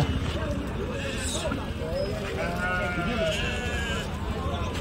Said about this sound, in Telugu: పెద్ద మేకలు అన్నీ ఇవి